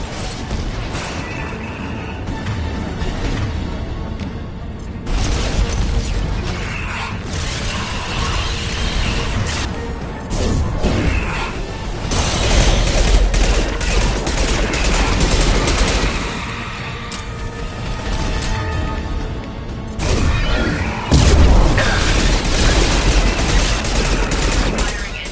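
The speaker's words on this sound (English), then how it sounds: "Firing anti-ship batteries at collector vessel." Anti-ship batteries fire at the Collector vessel in Mass Effect 2 as a loud, sustained barrage of rapid mechanical bursts and clanking, with heavier volleys partway through and near the end.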